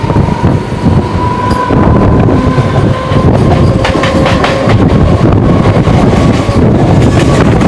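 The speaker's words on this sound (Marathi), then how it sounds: "ही ट्रेन बघा, AC वाली ट्रेन आहे." An AC suburban train runs near Ambernath and Ulhasnagar with a loud, continuous rumble and rhythmic rail clatter. The steady close-up roar fills the whole stretch, and a faint whistle-like tone sounds early on.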